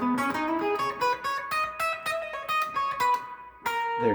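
Guitar picking a slow major blues lick in B, a clear run of single notes with slides and bends, close and fairly soft, no talking.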